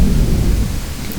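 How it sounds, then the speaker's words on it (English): Tornado storm in Garry's Mod, with a loud, continuous rumble of thunder, wind and heavy rain filling the whole moment, with no pauses or talk. "See how this tornado plays out."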